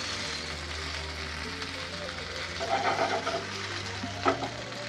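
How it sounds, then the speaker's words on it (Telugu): Pieces for Arabian mandi frying in oil in a pan, a steady low sizzle with a brief louder crackle midway and a spoon tap near the end, no speech. "అందుకే కొంచెం ఇది ఆయిల్లో ఫ్రై చేయాలి"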